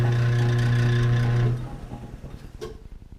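A power drill spins a homemade carboy cleaning wand in reverse, a steady loud whirring motor hum for about a second and a half before it cuts off and winds down into quieter rattling.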